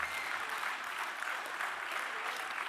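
Conference audience at a radio industry event applauds an AI-written song, a dense, steady wash of clapping from a full room that holds throughout.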